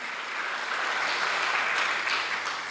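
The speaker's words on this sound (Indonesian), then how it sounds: "Tepuk tangan dulu buat Tuhan Yesus" A church congregation at a youth service applauds, a steady, full wash of many hands clapping together that swells slightly and holds without talk.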